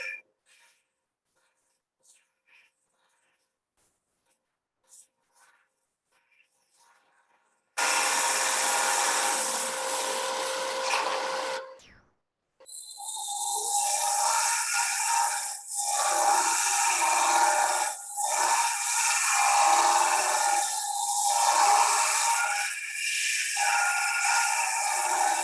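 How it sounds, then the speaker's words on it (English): A negative rake scraper smooths the inside of a wooden lidded jar spinning on a lathe, making a loud, sustained rasping hiss that starts abruptly after near-silence, pauses briefly, then resumes with varying pressure. "I just like to do this to kind of smooth up the inside of that."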